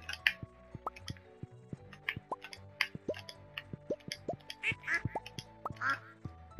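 Ducks quack repeatedly in the farming video game Stardew Valley, mixed with dripping, plopping game effects, all quiet and busy with no talking.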